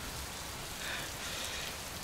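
Heavy downpour of rain hisses steadily over a short stretch, a dense, even wash of falling drops with no voices or other sounds.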